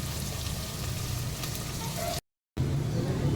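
Onions frying in a pan for chana dal keema, a steady sizzling hiss that holds evenly, cuts out briefly near the end, then resumes.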